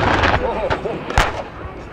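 A secondary explosion goes off during a combat search and rescue air show demonstration, heard as a series of sharp booming blasts with one big burst near the middle, loud and close, while voices talk faintly in the background.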